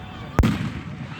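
A single sharp firework boom during a 4th of July display, loud and fairly close, trailing into a rumbling decay under background noise.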